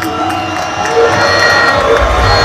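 A large crowd of football club supporters cheers and shouts for sponsor Ghalib Said Mohamed, a loud roaring mass of voices with whoops that swells and stays full throughout.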